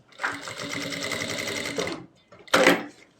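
A sewing machine stitches fabric while a deep ladies' neckline is sewn in a beginners' tailoring class. It runs in one steady burst of nearly two seconds, pauses briefly, then gives a second short, loud burst.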